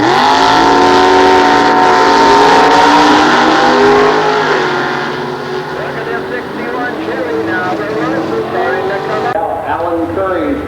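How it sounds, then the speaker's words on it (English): Loud nostalgia drag race cars at a 1993 Goodguys event at Sears Point, including a 1967 Ford Mustang, roaring and revving close by, with an announcer talking over the engine noise throughout. "Alan Curry, driven 67 Ford Mustang all the way from Fallon, Nevada."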